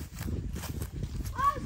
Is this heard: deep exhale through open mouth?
no